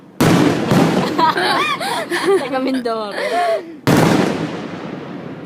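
Swiss National Day fireworks go off in loud bursts, with sharp bangs and crackles in the first half, then a pause and a renewed loud burst, while people talk and exclaim excitedly throughout.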